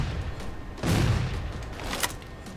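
Grenades exploding in the video game Halo 4, a dull booming burst near the middle followed by a sharper crack a moment later, set against steady game background noise.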